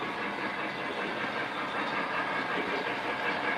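A Penske A4 switcher model train runs along its track with a soft, continuous rolling rumble and light hiss, close and fairly quiet, with no talking.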